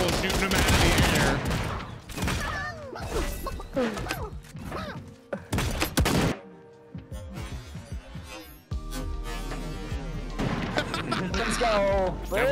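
Many players firing at once in a hunting video game, dense loud volleys and rapid bursts of gunshots with a short quieter stretch in the middle, mixed with voices talking.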